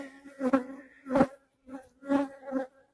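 Honeybees buzz close by during an October hive inspection, the drone swelling and fading in several uneven bursts with short quiet gaps between.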